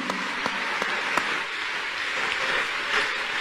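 A church congregation claps hands together in a sustained, dense burst of applause, loud and filling the room with faint individual claps audible in the mix.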